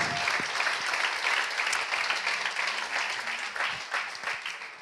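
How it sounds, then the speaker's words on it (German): A church congregation applauds a couple married 52 years, a sustained wash of many hands clapping, fairly loud and unbroken, with no voices on top. "Ein Applaus"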